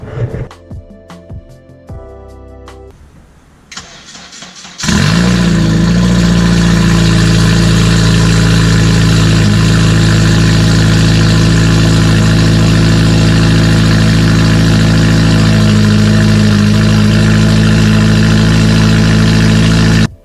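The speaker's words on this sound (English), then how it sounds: "you guys can probably hear the car is ridiculously loud" A very loud straight-piped exhaust on a turbo Honda Civic idles close by, a deep steady rumble with a harsh low drone, after a few seconds of quieter clatter at the start.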